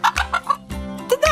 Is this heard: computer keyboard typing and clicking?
no